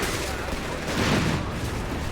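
Dense, continuous gunfire from paired machine guns in a Company of Heroes 3 battle, a steady loud rattle filling the whole moment with no clear pauses.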